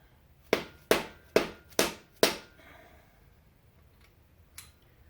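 Freeze plugs are driven into a Ford 428 engine block from a 1964 Galaxie 500 with five sharp metallic taps in quick succession, each decaying briefly, followed by quiet and one faint later knock.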